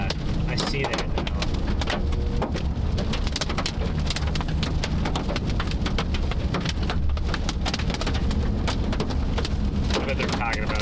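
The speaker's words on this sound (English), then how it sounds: "We lost visual of it because of the rain." Heavy rain pelting down during a Nebraska thunderstorm with tornado threat, a dense continuous patter and splatter with sharp drop hits throughout.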